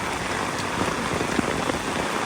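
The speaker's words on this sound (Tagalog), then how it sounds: "Ang sarap maglakad sa ulan." Heavy rain pours steadily in Singapore, a dense continuous hiss of drops hitting the ground and nearby surfaces, loud and even throughout with no voices.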